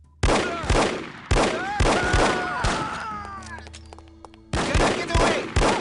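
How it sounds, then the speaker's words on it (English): Loud bombs and gunfire in the video game No One Lives Forever: repeated sharp, heavy blasts in quick bursts, a brief lull with ringing tones, then more shots close and loud. "Pretty loud bombs."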